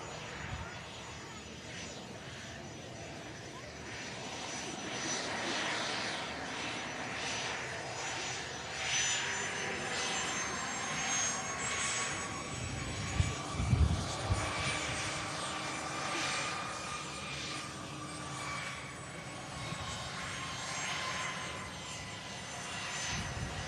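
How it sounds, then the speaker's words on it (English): An EasyJet jet airliner departing, its broad engine roar steady and fairly loud throughout, with a low rumbling swell near the middle; voices talk over it at times. "the EasyJet for COS has just departed"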